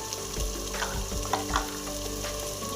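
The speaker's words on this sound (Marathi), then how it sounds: "छानपैकी मिक्स करून घ्यायचं आपल्याला." Spiced black aubergine curry with garam masala being stirred in a hot pan, a steady close sizzle and frying hiss with repeated scraping strokes of the spoon, no voices.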